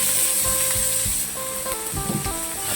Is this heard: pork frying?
yes